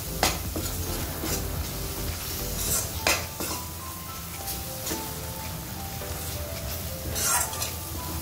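Masala gravy with tomato, made without coconut, stirred and mixed in a pan over a steady sizzle, with scraping spoon strokes and a few sharper clinks standing out.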